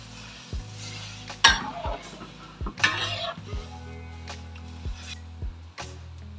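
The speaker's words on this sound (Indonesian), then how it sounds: "ini saya masukkan daging sapinya" Beef pieces going into a pot of water to boil for beef gulai, giving a run of light metallic clinks and knocks against the pot over a low steady hum, close and fairly quiet.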